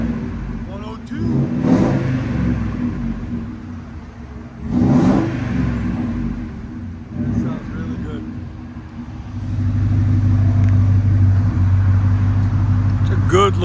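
A 2000 Ford Excursion with a 5.4L V8 and Flowmaster Super 50 exhaust revs close up in three sharp blips, then holds a loud, sustained rumbling rev, with voices faintly underneath.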